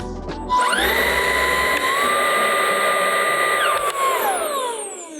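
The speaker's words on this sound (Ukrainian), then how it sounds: "От можете звернути увагу, як зараз запрацює щітка" A cordless Milwaukee M18 FCVL-0 vacuum cleaner with a motorized turbo brush spins up to a loud, steady whine with high tonal harmonics, holds for about three seconds, then winds down smoothly; no voices.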